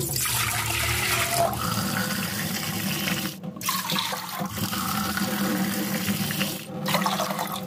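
Continuous rushing water, loud and close, as if poured or running from a tap, with brief dips in the flow, as three glasses of water are collected for making dye for salted eggs.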